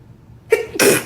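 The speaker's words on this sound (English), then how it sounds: "I have to sneeze." A single sneeze from a woman during a makeup routine, a sharp two-part burst with a short intake followed by a louder explosive release, close to the microphone in a quiet room.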